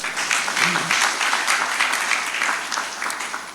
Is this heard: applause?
yes